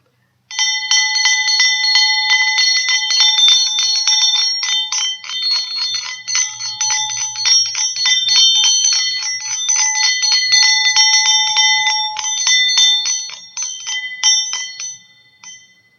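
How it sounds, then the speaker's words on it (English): A small bell rung to clear energies during an oracle reading keeps up a fast, continuous metallic ringing for about fifteen seconds, loud and close, then fades out. "the tone of a bell could basically balance the energies and vibrations around you"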